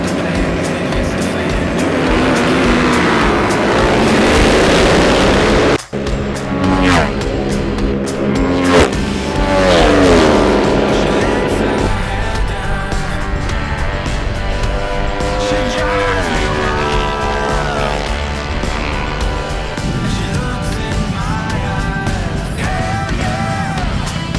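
Twins Cup motorcycles launch off the start at Road America, a loud, continuous roar of racing engines with rising and shifting pitch as the pack accelerates away, with a brief dip early on.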